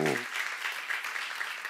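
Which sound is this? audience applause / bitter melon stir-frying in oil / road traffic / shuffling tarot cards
audience applause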